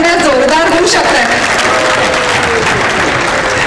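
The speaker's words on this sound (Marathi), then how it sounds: "पोस्ट लंच आय गेस टाळ्या थोड्या जोरदार होऊ शकतात" A conference hall audience at a Rotary district event claps in a dense, loud, sustained round of applause with some crowd noise and voices mixed in.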